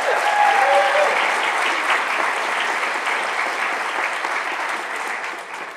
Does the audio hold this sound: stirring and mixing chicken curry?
no